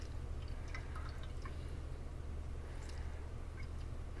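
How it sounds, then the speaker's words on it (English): Liquid drips from honeysuckle being squeezed by hand for tea, scattered soft droplets tapping irregularly over a steady low background hum. "we're going to squeeze as much liquid out as we can"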